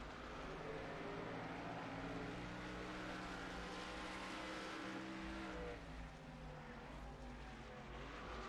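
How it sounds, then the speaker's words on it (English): Race cars running laps at Canadian Tire Motorsports Park in the NASCAR Racing 2003 sim, a steady, faint engine drone that holds throughout with no talk. "Probably the last time we're going to see these cars on the track."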